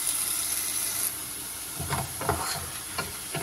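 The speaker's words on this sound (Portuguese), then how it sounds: "Vou deixar a cebola fritando um pouquinho." Onion and garlic frying in butter in a pan give a steady, bright sizzling hiss close by, with a few soft clatters of utensils toward the end.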